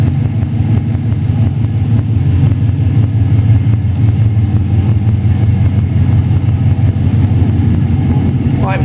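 A 1959 GMC Apache Fleetside pickup's engine runs with no cooling system connected, giving a steady, close low rumble that holds even and unbroken throughout.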